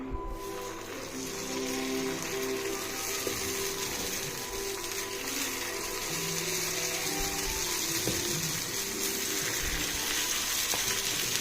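Kuzhi paniyaram batter sizzles steadily in a hot stone paniyaram pan, a continuous bright frying hiss with faint clinks and bubbling underneath, close and even throughout.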